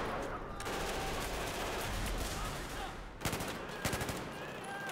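Battlefield 4 gunfire rattles in a dense, continuous fusillade with sharper bursts toward the end, loud and steady against game background noise.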